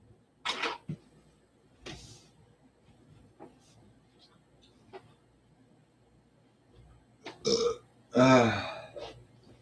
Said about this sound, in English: sad for that other burp I did